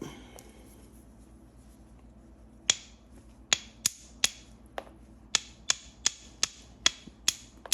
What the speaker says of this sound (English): holding the piece at a steep angle and striking, just barely catching the edge and taking short flakes just to get that convexity